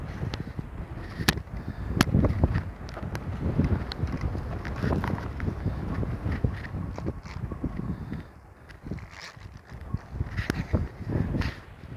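Gusty wind buffets the microphone outdoors at a scenic overlook, a steady low rumble with stronger thumping gusts that swell and ease throughout, no talking.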